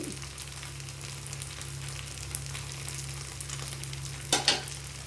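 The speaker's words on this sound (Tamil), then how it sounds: "2வது அடசலும் ஊற்றிட்டேன் பாருங்கள்" Paniyaram batter sizzles steadily in a pan, a soft continuous frying hiss under a low hum, broken near the end by two brief clattering knocks.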